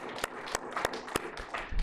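A small church congregation clapping, sparse, loosely spaced claps that fall into a slow, fairly steady rhythm, with some softer background noise between.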